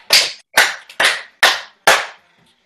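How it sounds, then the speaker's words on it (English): A group claps in unison five times during a live online cardio and dance fun class: sharp, evenly spaced, loud claps with short gaps between them and a brief quiet tail. "Can you give me five claps?"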